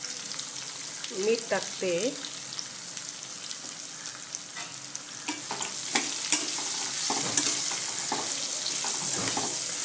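Pieces of bottle gourd sauté in hot oil with turmeric and chili, a soft steady sizzle with occasional stirring scrapes in a home kitchen, while someone speaks briefly over the cooking.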